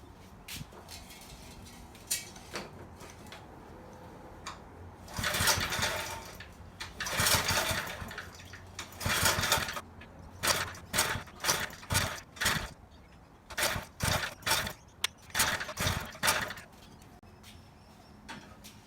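An old engine, started with the choke pulled out, sputters and revs in a series of uneven, rising bursts over a steady mechanical idle, fairly close and loud, with no voices.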